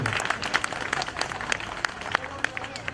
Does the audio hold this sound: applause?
yes